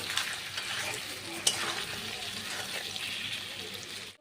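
Vegetables cook down in a pan with spices, salt and a little sugar for a taro and prawn curry. A soft, steady sizzle runs under stirring, with one sharp clink of a spatula against the pan.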